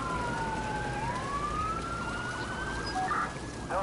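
Police car siren wailing continuously in the Watch Dogs video game, a sweeping up-and-down electronic tone during a police car escape from Palin Correctional Center, loud and steady over road noise with no talk.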